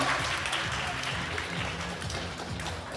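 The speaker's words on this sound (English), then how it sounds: "Can we give a little more applause for her, please?" A fashion showcase audience applauds a model, with continuous, fairly even clapping throughout and a low voice faintly underneath.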